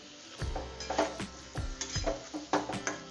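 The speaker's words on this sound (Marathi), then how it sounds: "आता याला चांगलं हलवून मिक्स करून घेऊया" A spoon stirs and scrapes cabbage paratha filling in a pan, producing close, rhythmic knocks and scuffs against the metal with a faint sizzle underneath.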